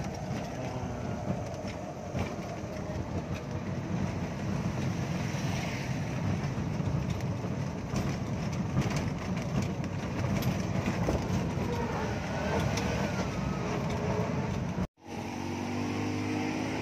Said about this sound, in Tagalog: Sakay tayo sa trike ng Bugak galing sa municipal parking lot